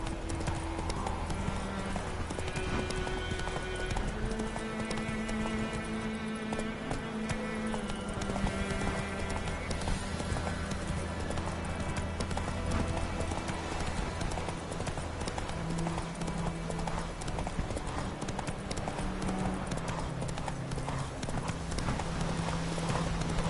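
Horse hooves clip-clop steadily in The Witcher 3 video game, a continuous rhythmic trot lasting throughout, set against a dense bed of game music and ambience.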